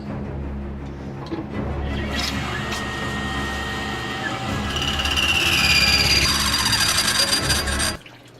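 Metal parts for a Kylo Ren lightsaber being machined, with the surface cut off and holes drilled: a steady, loud mechanical grind and motor drone with high whining tones that swell toward the end, then stop abruptly.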